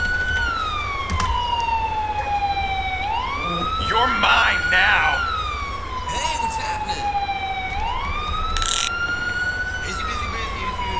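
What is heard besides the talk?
emergency vehicle siren in video game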